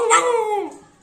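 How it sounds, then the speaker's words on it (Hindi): A dog gives a single drawn-out yelping bark that slides downward into a whine, close by and alone, lasting about a second. "कुत्ता भौंक रहा है"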